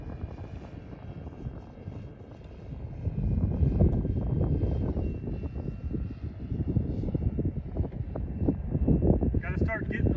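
Turbine-style engine drone of a 107-inch VQ/Nexa Pilatus PC-6 Turbo Porter radio-controlled model plane on a windy final approach to landing, steady and moderately loud with gusty wind buffeting the microphone, swelling louder toward the end.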